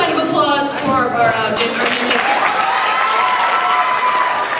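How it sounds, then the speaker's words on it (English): Audience applause at a Stage Ninja stage show at Anime Vegas 2010 fills the room, a steady wash of clapping from a crowd with some cheering, while a voice speaks over it at the start. "I want a huge round of applause"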